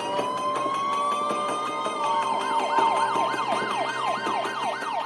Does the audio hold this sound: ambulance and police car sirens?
yes